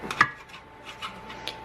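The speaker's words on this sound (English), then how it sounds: "So I'm cutting the ends off like this, and then cutting it in half." A knife cuts through French bread on a board for po-boy sandwiches, with a crisp crunch and thump near the start followed by a few softer cutting scrapes, close and quiet with no talking.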